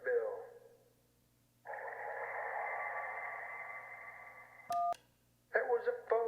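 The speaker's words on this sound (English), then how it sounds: "That was a phone ringing underwater." A phone ringing underwater becomes a steady, muffled warble held for about three seconds through a tinny radio filter in a video game. A brief keypad beep follows, and then someone talks.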